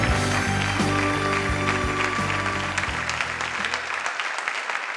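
Studio audience applause on Indian Idol Season 14 for contestant Muskan and her family, a steady wash of clapping that runs loud beneath backing music before tapering off near the end.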